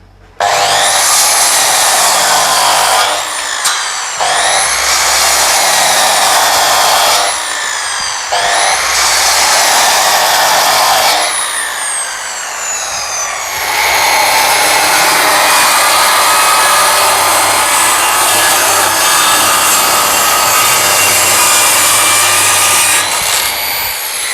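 A 9-inch, 1800 W Austin circular saw cuts through wood in several loud, close passes, its high whine dropping under load during each cut and rising again between them.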